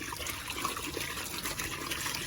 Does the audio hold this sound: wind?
no